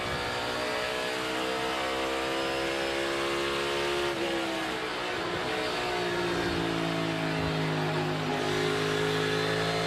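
Kevin Harvick's NASCAR race car roars loud and steady at the 2022 Phoenix race, easing off the throttle as its engine pitch drops in a few distinct steps while shifting gears.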